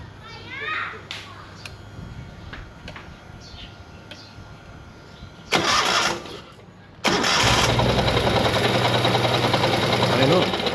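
Engine cranking to life after a rocker arm reassembly, in Borneo, Malaysia: a short crank burst, then a sustained loud running roar with a ticking, uneven noise, after some children's voices and talk earlier.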